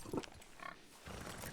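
Spotted pigs offered as a pair at a livestock auction give a few soft, close grunts across a short stretch, with no talk over them.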